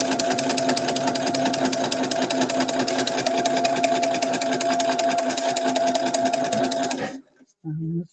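A sewing machine stitches continuously up close with a loud, rapid mechanical whir for about seven seconds, then stops abruptly, followed by a brief low hum.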